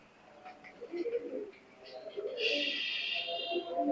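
A Teddy pigeon cooing softly near the microphone, low murmuring calls under quiet talk, with a brief higher chirp in the background.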